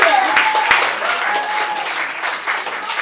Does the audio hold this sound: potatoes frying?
no